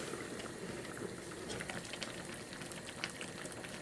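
A pot of black-eyed pea and tomato soup boils steadily with dense, continuous bubbling and popping, fairly quiet and close, with no voices.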